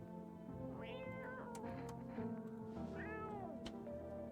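A cat meows repeatedly in a video game, with drawn-out, rising and falling cries sounding close over a steady low hum of game background sound.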